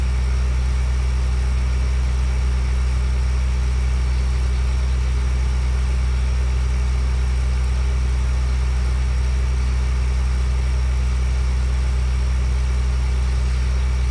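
A farm vehicle's engine in a farming game drones at a constant, heavy low pitch while driving, loud and unbroken with no talk.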